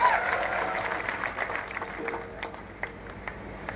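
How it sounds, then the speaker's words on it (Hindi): A crowd claps at a Maharana Pratap birth anniversary gathering, with a steady spatter of applause that gradually thins and fades over a few seconds. "ऐसे भैया के लिए जोरदार ताली हो जानी चाहिए"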